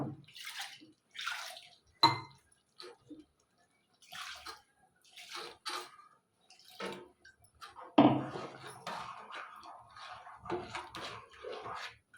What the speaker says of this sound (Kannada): ಚೂರು ನೀರು ಹಾಕ್ಕೊತೀನಿ